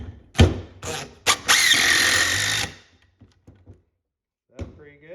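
A DeWalt 18 volt drill drives 2.5 inch screws: short loud bursts of motor whine build into a sustained run of a couple of seconds, followed by faint scattered clicks and knocks.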